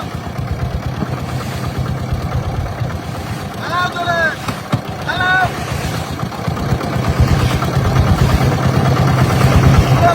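Strong storm-like wind outdoors, a loud continuous roar buffeting the microphone and swelling toward the end, with a short human voice breaking through briefly in the middle.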